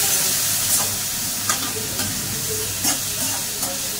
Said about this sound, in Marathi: हे बघा हा कढीपत्ता, कांदा टमाटो। ओके, परतून घ्यायचं आहे व्यवस्थित।